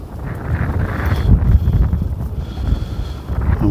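Steady wind blowing across a carp fishing lake in winter, a broad continuous low rumble and buffeting with gusts swelling near the middle, loud and close with no voices.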